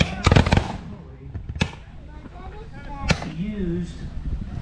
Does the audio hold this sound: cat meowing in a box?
no